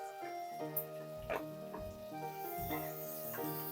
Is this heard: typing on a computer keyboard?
no